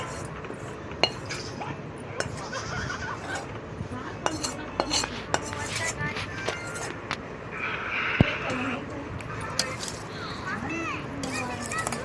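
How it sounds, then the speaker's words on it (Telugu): Mango pickle being mixed with a ladle in a pot, soft repeated scrapes and metallic clinks under ongoing background chatter and household noise. "ఇప్పుడైతే మంచిగా కలిపేస్తుందండి."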